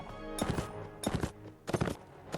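Horse hooves in the medieval combat game Mount and Blade, heard as three short bursts of rapid galloping thuds close by, each lasting about half a second with brief gaps between.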